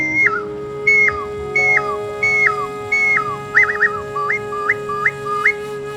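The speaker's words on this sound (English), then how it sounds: "The boys had to learn to make bird whistles." A handmade bird whistle at a Native American heritage festival sounds a run of about ten short, bright calls, each a quick stepped drop in pitch, repeated at a steady pace over a low constant hum.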